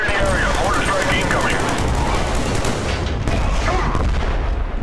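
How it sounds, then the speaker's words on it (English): Mortar strike in the Killzone 3 multiplayer Frozen Dam map, a dense, loud barrage of rapid gunfire and explosive booms rumbling continuously, with a voice talking over the din. "Mortar strike."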